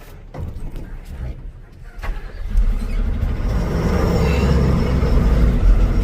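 A loaded goods vehicle on a road starts up and pulls away, its engine building from a low idle to a steady, louder rumble that fills the second half, with some clatter early on.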